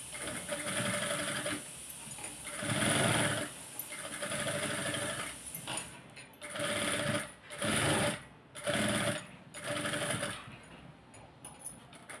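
Sewing machine stitching along the edge of a shirt collar after pinning, running in steady loud bursts that start and stop several times, with short pauses between runs.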